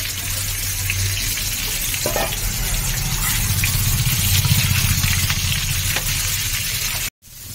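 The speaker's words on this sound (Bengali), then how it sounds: "ওই তেলের উপরেই আমি এঁচোড়গুলো ভেজে নেব, সামান্য ভেজে নেব।" A steady, close sizzling hiss of raw jackfruit frying in oil, continuous for several seconds with faint clicks, then a sudden brief cut near the end.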